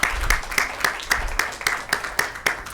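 Audience applauding a speaker at a career talk, a rhythmic round of clapping with sharp regular hand claps close by, steady for a few seconds.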